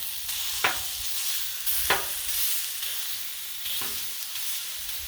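Pork frying on a Blackstone griddle, sizzling loudly and steadily, with three sharp metal spatula scrapes breaking up the meat at intervals.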